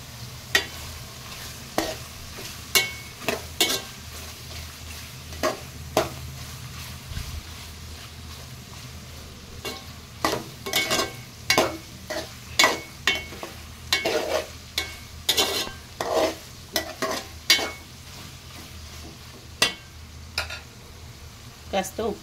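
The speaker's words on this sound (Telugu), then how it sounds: "ఫ్రై అవుతుంది బోటి" Goat tripe (boti) frying in a pan for an Andhra-style gongura curry, with a steady low sizzle under repeated scraping, clinking stir strokes of a spoon against the metal, close and fairly loud, irregularly spaced.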